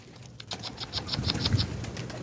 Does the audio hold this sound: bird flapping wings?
yes